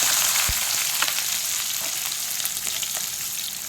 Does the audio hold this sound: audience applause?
no